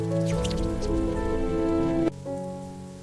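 Rain falling steadily with a dense patter, heard alongside sustained tonal music that cuts briefly near the end and then resumes more quietly.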